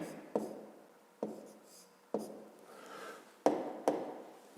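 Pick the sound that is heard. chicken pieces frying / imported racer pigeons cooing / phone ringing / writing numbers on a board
writing numbers on a board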